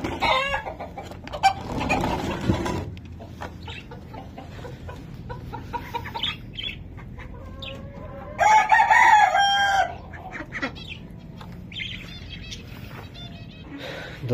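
Chickens cluck and mutter close by while a rooster crows loudly in a prolonged call midway through, with scattered sharper clucks and light scuffling around a backyard coop where hens are fed and shut in.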